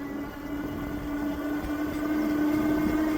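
A CyCrown CycHunter e-bike climbs a steep hill on throttle alone, its hub motor giving a steady, fairly faint electric whine over rolling road noise.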